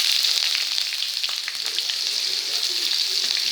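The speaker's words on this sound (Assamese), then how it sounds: "কঁঠালখিনি ভাজি লৈছোঁ।" Jackfruit fries in a pan with cumin, two bay leaves and onion, giving a loud, continuous close-up sizzle with faint stirring scrapes and no talk.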